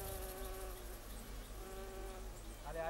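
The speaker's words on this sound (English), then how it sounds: "hives dripping with bees and honey." A steady, dense buzzing of many bees close by at a hive in India, continuous and droning throughout with no pauses.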